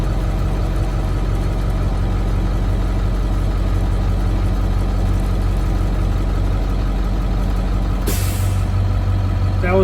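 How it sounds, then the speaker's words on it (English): A Class B passenger vehicle idles loudly with steady engine rumble, then near the end the air brake governor cuts out with a sudden sharp hiss of released air over the continuing idle. "That was my governor shut off."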